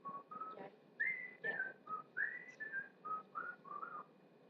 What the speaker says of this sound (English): Is that other show where they're like whistling